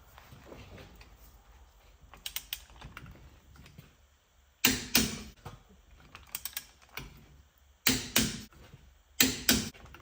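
A torque wrench tightening wheel spacer lug nuts in a star pattern, giving bursts of sharp rapid ratcheting clicks, close and crisp, separated by short pauses.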